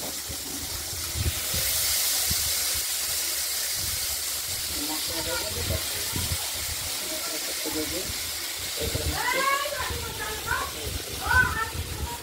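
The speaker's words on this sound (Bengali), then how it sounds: "ভাজা ভাজা করে নেবো। আলু দিয়ে দেওয়া হলো।" Potatoes fry in hot oil in a pan with cumin and cardamom for a katla fish curry, giving a steady close hiss while someone talks over it.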